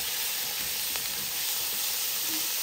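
Steady hissing sizzle as tomatoes go into a hot cooking pot for salmon head sinigang, a continuous close frying sound with no talking.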